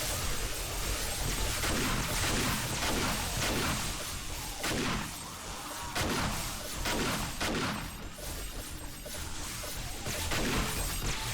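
Gunfire in 7 Days to Die shooting at a zombie horde from a base: dense, continuous rapid shots and crashing impacts at high level, with no gaps.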